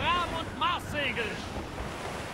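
Wind and rolling sea waves on open water in Assassin's Creed Rogue, with a steady broad rush beneath a voice speaking over it.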